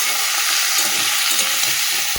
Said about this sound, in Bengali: এদিকে তো ডালটা ভাজা হচ্ছে, হয়ে এসছে ভাজা